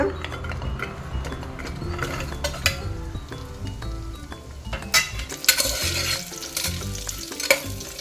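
Halved jackfruit seeds frying in hot oil, a steady busy sizzle with stirring scrapes and clicks of a utensil against the pan running throughout, close and continuous with no talk.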